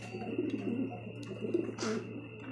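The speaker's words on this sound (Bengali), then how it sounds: "আবার দেখতে পাচ্ছি এখানে আরো একজন শৌখিন কবুতর" Fancy pigeons kept by a hobbyist give soft, low cooing calls nearby, with a faint steady hum behind them.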